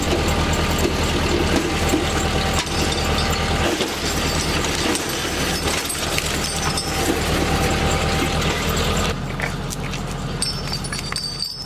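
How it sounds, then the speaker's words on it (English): A logging winch, engaged by a rope-pulled clutch, reels steel cable onto its drum during firewood operations, a loud, steady mechanical drone with clanking and ratcheting, close by, its pitch dropping slightly near the end. "Pulling on this rope engages the clutch of the logging winch and"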